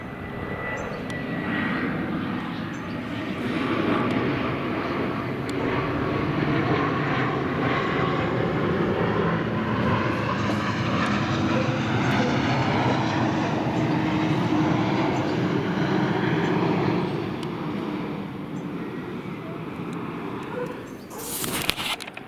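A Gulfstream G550 business jet lands at Cambridge Airport at the 05 end. A loud, sustained jet roar holds steady for about twenty seconds before dropping away.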